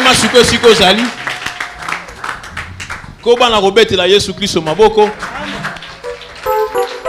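A church congregation at a Christian seminar claps to acclaim Jesus, a rhythmic, crowd-wide patter of hands rising and falling beneath a loud voice shouting and chanting over it through most of the passage.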